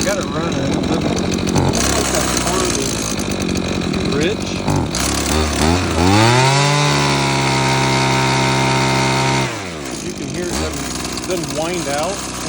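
A 23-year-old Husqvarna 323L weed eater's small two-stroke engine runs close by, buzzing and idling unevenly, then revving up to a sustained high whine before dropping back, with someone speaking over parts of it.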